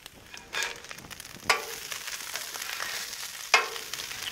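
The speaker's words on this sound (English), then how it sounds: "Our corned beef hash is getting nice and crispy." Corned beef hash crisps on a Blackstone griddle with a soft, steady sizzle. A few sharp spatula scrapes stand out near and clear, and no one speaks.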